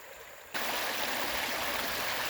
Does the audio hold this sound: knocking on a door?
no